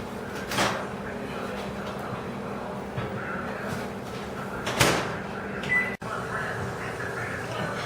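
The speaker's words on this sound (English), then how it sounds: "we're gonna put them straight into the microwave." A microwave oven cooking potatoes gives a steady low hum throughout, with a few soft clunks and a quick electronic beep near the end.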